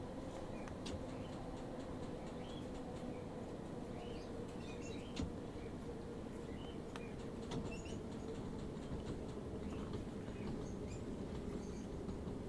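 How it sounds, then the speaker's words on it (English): A train passes in Train Sim World 3 on the Bakerloo Line, a steady low rumble of wheels on rails with faint clicks and squeals, fairly distant and even throughout. "Look, another train already."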